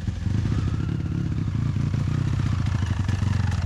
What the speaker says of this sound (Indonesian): Billy nyobain guys, motor KTM.